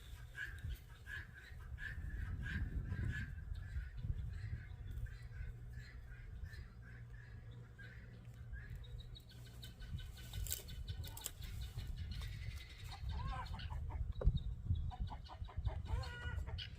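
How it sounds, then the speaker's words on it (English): A neighbour's rooster crows from a distance near backyard beehives, with faint clucking and squawks over a low, steady background hum, and no talking during the calls. "apparently the neighbor's rooster's out here yelling"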